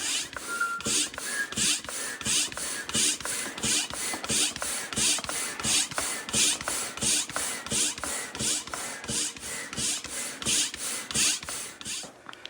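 A hand pump works hard to inflate a 10-foot inflatable paddle board near 15 PSI, pushing out a long run of regular rhythmic air strokes, close and steady, one rasping whoosh about every half second.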